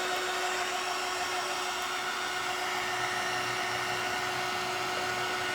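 A hair dryer blows steadily on wooden beads for a strawberry garland, a constant close whooshing roar with a thin whine running through it, unbroken and alone with no talk.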